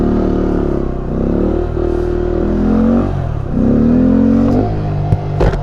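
A Honda Grom motorcycle engine revs loudly up and down through a wheelie, close and continuous with rising and falling pitch, a brief clatter near the end.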